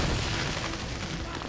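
A grenade blast in the game Army of Two: The Devil's Cartel, a loud, sustained burst of broadband rumble and crackle filling the whole moment with no clear pauses.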